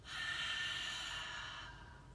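A single long exhale in a yoga breathing exercise, an open-mouthed breath as if fogging up a mirror, close and breathy, swelling quickly and then slowly fading over about two seconds, with no talking.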